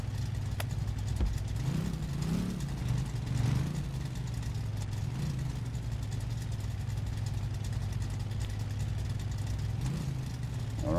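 The engine of a 1967 Chevrolet Impala in My Garage idles with a steady, close, low rumble that persists throughout, with small surges as the car is eased into position near a trailer.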